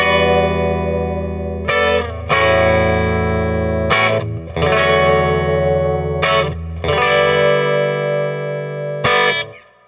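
Fender Jaguar electric guitar on its bridge pickup alone, played through a Princeton Reverb reissue amp: loud, bright chords ring out in several sustained strums separated by brief pauses, with reverb tails and no talking.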